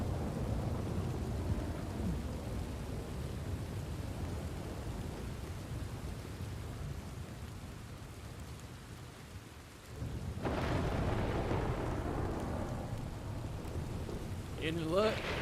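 Heavy rain hisses steadily through a thunderstorm, with deep rolling thunder underneath; a brief lull near the end gives way to a fresh, louder surge of downpour.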